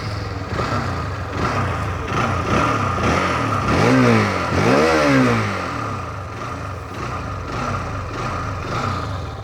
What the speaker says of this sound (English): Now let's jump on to the Xtreme 160R and listen to how it sounds like.